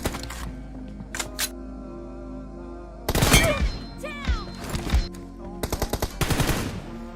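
Gunfire in the mobile shooter PUBG during a team deathmatch, with short bursts of rapid automatic shots and single cracks in quick clusters, separated by brief gaps of game ambience.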